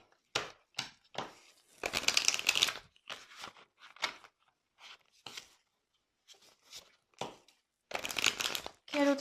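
Tarot cards shuffled for a reading, with repeated bursts of crisp riffling and shuffling separated by short pauses, close and fairly clear, alone without talk.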